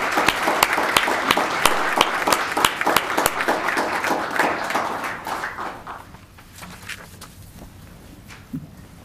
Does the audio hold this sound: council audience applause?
yes